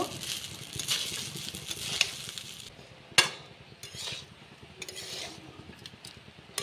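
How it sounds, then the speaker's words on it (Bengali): Egg fried rice being stirred and tossed in a pan, with continuous scraping and mixing, a faint sizzle underneath and a couple of sharp utensil clacks against the metal. "সব কিছুকে খুব ভালোভাবে মিশিয়ে নেব।"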